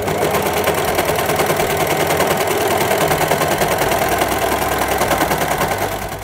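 A Brother 3534DT sewing machine runs steadily, its needle stitching a seam in a continuous fast mechanical chatter that holds at an even level throughout and fades slightly at the end.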